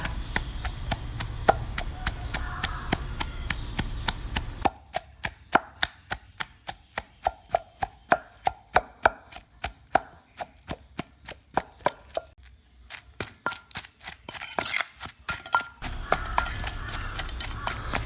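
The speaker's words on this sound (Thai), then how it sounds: "พริกกระเทียมหอมที่คั่วเย็นลงตัวแล้วนะคะเราก็จะนำมาโขลกค่ะ" A pestle pounds roasted chilies, garlic and shallots in a mortar for a Thai chili paste with catfish. The close, sharp thuds come in a steady rhythm of about two to three per second and keep going the whole time.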